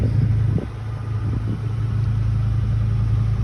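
A 2005 Ford F-350 Super Duty pickup idling close by, a steady low engine rumble with a brief knock or thump just after the start.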